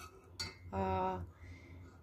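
A metal spoon clinks and scrapes against a container while sugar is stirred into lime jelly powder, two distinct clinking strokes between quieter pauses.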